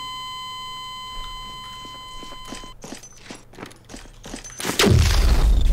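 Custard launcher weapon firing in Garry's Mod Slendytubbies 3, a run of sharp synthetic shots in a steady rhythm over electronic beeping tones, ending in a loud booming burst.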